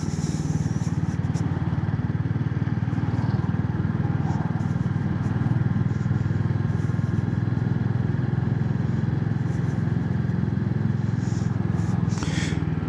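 A Royal Enfield Hunter 350 with its J series single-cylinder engine runs steadily, giving a continuous low, even thrum at moderate loudness, close by, with a faint voice now and then.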